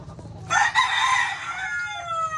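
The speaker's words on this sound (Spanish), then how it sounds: "¿A Rafael le gustan sus gallos también?" A rooster crows once on a farm in the Dominican Republic countryside, a loud, close, drawn-out call that rises and trails off over a low rural background hum.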